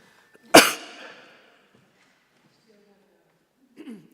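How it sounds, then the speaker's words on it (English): A single sharp, loud cough from an adult with a lingering post-COVID cough, spoken at a theology conference panel, with a short tail and a faint voice sound near the end. "I still have a post-COVID cough, so I'm sorry"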